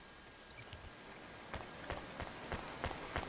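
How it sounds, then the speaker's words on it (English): Steady rain pattering down in a rainy city street of the video game Cloudpunk, a soft continuous hiss with scattered distinct drops ticking across the surface, moderately quiet and with no voices. "Don't let all the rain get you down."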